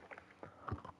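Popcorn being chewed close to a microphone, a few soft crunchy bites spread over about a second with no talking.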